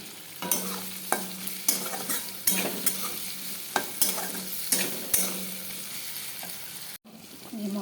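Spices and a pinch of sugar fry in a pan of paneer curry and are stirred with sharp scraping strokes over a constant sizzle. A brief dropout comes near the end before the frying resumes.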